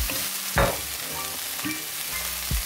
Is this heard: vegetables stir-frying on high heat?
yes